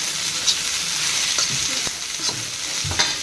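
Onion, curry leaves and cumin frying in a pan on a gas stove, a dense steady sizzle with a few soft scrapes of stirring throughout, close and loud.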